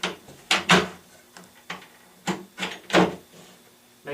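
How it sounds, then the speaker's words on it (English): Wooden ready-to-assemble lazy Susan base cabinet parts sliding into mounting clips, a series of sharp knocks and scraping clicks in uneven bursts, close up in a quiet room. "We slide it right into the clips"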